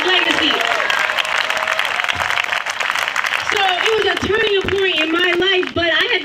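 Crowd applause at a debate protest in Cleveland, a dense wash of clapping with cheering voices rising through it, loud and sustained, while a person speaks over the noise in the latter half.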